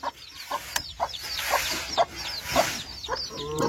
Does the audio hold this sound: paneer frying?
no